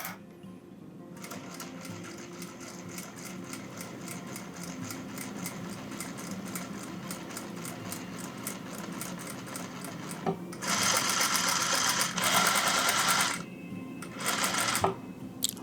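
A sewing machine stitches along a folded fabric edge on a dress in a rapid, even mechanical rattle, pausing briefly and then running again in a louder, brighter burst.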